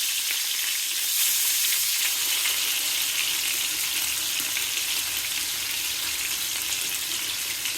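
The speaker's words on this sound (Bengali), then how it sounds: "অত কড়া করে ভাজবো না, একটু হালকা করে ভেজে নেব" Hilsa fish pieces fry gently in hot oil in a pan, making a continuous, close, even sizzle and hiss that carries on without pause and without talk.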